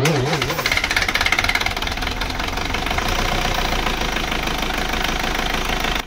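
A Hyundai Grand Starex's D4CB diesel engine runs loud and steady with a harsh, rapid metallic knocking that continues throughout, close and without talk.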